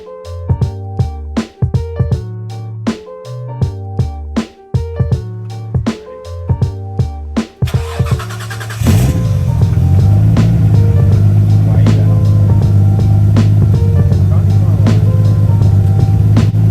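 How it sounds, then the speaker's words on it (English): A Nissan R33 GTST barn-find engine is cranked with rhythmic starter pulses, then catches and settles into a loud, steady idle, close by. "Motor sounds really healthy."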